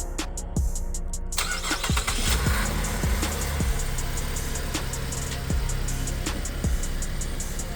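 A Cadillac car engine cranks and fires up after a few clicks, then settles into a steady loud idle with some rattling ticks.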